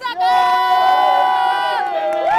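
A loud, sustained cheering shout from a fan of the racehorse Honeysuckle at the Cheltenham Festival 2022, one long held vocal cry rising at the end.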